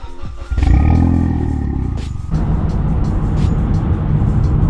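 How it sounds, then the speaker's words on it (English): A car engine cold-starts after a new turbo install: a loud cranking catch at about half a second bursts into a roaring rev, then settles into a steady, rough high idle close by. "You can never have enough cold starts in one video"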